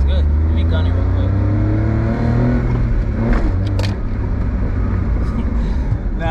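Honda Beat kei car engine revving hard under acceleration from inside the cabin, a loud, steady rising drone with rumbling road noise throughout.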